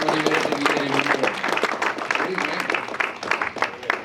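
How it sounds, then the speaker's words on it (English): Audience at a business talk about a cloud management company claps in a steady, fairly close round of applause, with some speech mixed in under it. "So let's give him a big round of applause."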